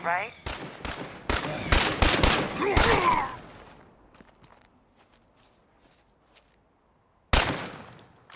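Sniper rifle fire in the video game State of Decay 2, several sharp loud shots in quick succession with ringing tails, then a quiet stretch and one more sudden blast near the end.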